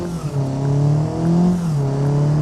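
A BeamNG video game car with a 1.4 litre stock engine revs hard, its steady droning note rising and falling in pitch as the throttle swells, loud and continuous with no talking.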